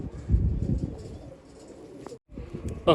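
A pigeon coos close by in low, throaty rumbling phrases, followed by brief chirps and rustling near the end.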